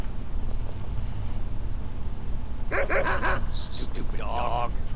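A dog barks in Skyrim, several quick, close barks clustered together and then a second short burst, over a steady rumbling wind-like background, with talk around it.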